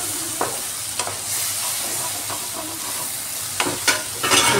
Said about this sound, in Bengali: টমেটো আর পেঁয়াজ আর আদা একটু ভালোভাবে কষিয়ে নিচ্ছি।